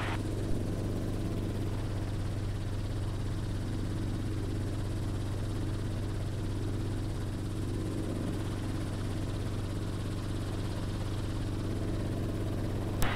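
Steady, droning engine and rotor hum from inside a helicopter flying along a ridge near the Great Salt Lake, loud, even and unbroken throughout.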